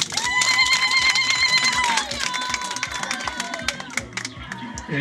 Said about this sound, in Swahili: Makofi kwa ajili yangu.